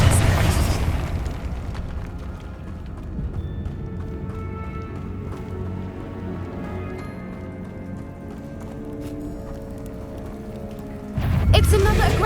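Confringo fire spell explosions in the Hogwarts Legacy video game, a cave fight with booming blasts under game music, a loud burst opening the clip and another heavy impact near the end.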